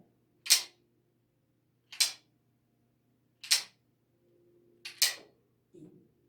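A wooden sound block struck during a children's music lesson: five sharp, dry knocks spaced about a second and a half apart, each ringing briefly and clearly against a quiet room.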